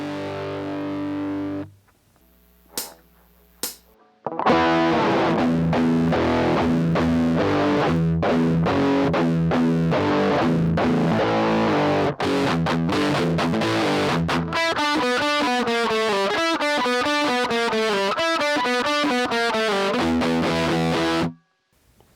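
Distorted electric guitar playing a riff, palm-muted chugging notes and power chords repeating in phrases, loud and driving, with a brief pause and isolated hits near the start before the riff runs steadily.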